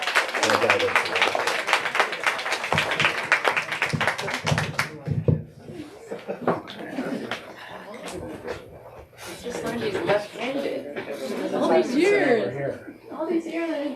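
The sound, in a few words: audience applause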